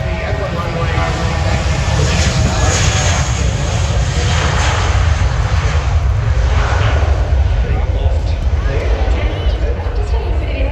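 An antique aircraft passes low over the runway at the Avalon International Airshow, its engine producing a steady, loud roar. The sound continues throughout amid crowd chatter.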